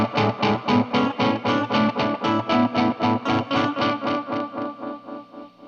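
Distorted electric guitar playing an extreme staccato riff in the style of a song, each note muted right after it is picked, giving a fast even pulse of about twenty short chugs that fades slightly toward the end.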